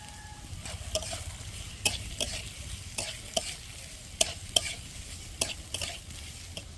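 Chopped carrots and other vegetables fry in hot white oil for a village-style fried rice, a steady close sizzle broken by sharp spatula scrapes and clicks against the pan at irregular intervals.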